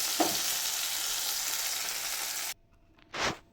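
Tomatoes and garlic fry in a pan with a loud, even hiss that cuts off abruptly, followed by a short burst of sizzle a moment later.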